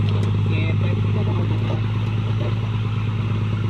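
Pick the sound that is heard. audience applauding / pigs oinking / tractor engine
tractor engine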